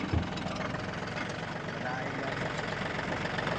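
A loaded tractor idles near a farm packing area where harvested pomegranates are unloaded into crates, giving a steady, close diesel rumble that holds evenly throughout.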